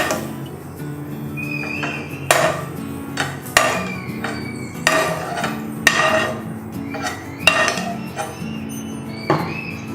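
Cashews fried in a pan for bread halwa are stirred with a spoon, giving sharp metallic clinks roughly once a second over a low steady background hum, close and moderately loud.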